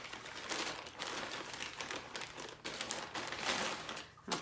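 A crinkly plastic shipping bag is handled and rustled steadily up close, a continuous soft crackling with a few sharper crinkles and no talking.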